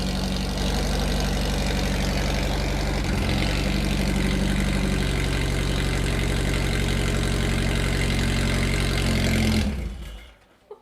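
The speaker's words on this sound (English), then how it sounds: "press the start button. There's no silencer on here," A Honda S2000 engine with no silencer fitted runs loud and close, a steady rough throbbing idle for about nine seconds before it shuts off, followed by silence and a small knock.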